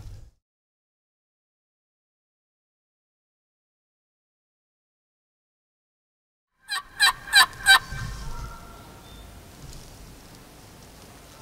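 Silence gives way to a burst of loud, rapid gobbling and squawking from several nearby wild turkeys fighting in Georgia, followed by scuffling and rustling as the racket fades.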